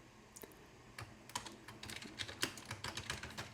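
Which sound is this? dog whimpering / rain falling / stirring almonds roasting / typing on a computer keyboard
typing on a computer keyboard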